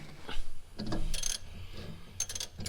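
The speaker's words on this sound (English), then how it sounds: "Got myself a ratchet here." A ratchet working on a Ford Explorer Sport sway bar link, giving a few short metallic clicks and ticks in separate bursts, fairly quiet with brief gaps between.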